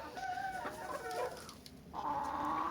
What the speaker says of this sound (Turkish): Tavuklar çok hızlı, horozlar da çok hızlı.